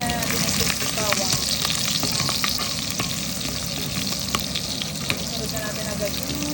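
Shrimp paste (bagoong alamang) and garlic sautéing in a pan, a dense, steady crackling sizzle with faint stirring scrapes, loud and close throughout.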